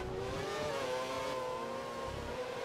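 A Formula 1 car engine in the video game F1 2013 drones at a steady, fairly quiet pitch, a continuous mechanical whine with a slight waver in tone.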